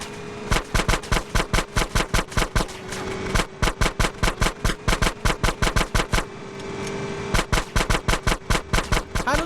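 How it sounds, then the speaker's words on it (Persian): Rapid bursts of automatic gunfire from a Grand Theft Auto: San Andreas shootout during a vehicle chase with pursuing cars and motorbikes, loud and close, with dense rhythmic volleys broken by short pauses over a steady engine hum. "تو فقط شلیک کن"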